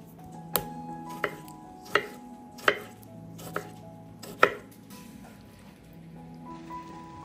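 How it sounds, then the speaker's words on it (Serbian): A knife chops through a tomato on a cutting board in six separate, sharp strokes at an uneven pace. The strokes are close and clear against a quiet background, with no talking. "I iseći ću jedan paradajz."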